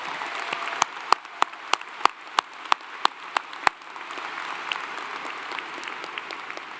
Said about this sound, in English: I think you all deserve a very loud round of applause.